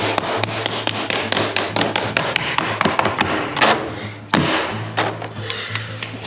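Sharp, repeated tapping of interlocking Ultragrid garage floor tiles being knocked into place, a quick irregular series of close knocks with some rubbing scrapes between them, alone without talk.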